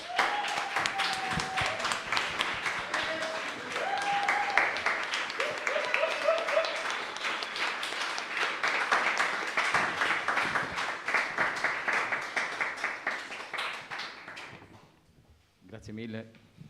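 An audience applauds at an award ceremony for a translation prize, with steady dense clapping sustained for about fourteen seconds before fading out, with a short spoken voice near the end.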